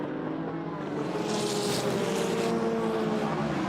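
A Porsche endurance prototype at the 6 Hours of COTA World Endurance Championship race roars past nearby, its engine note rising and swelling through the middle before easing off.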